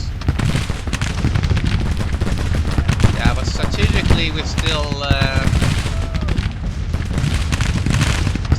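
Cannon and rifle fire rattle through a battle in the Civil War strategy game Grand Tactician, dense continuous volleys and booms under a voice talking.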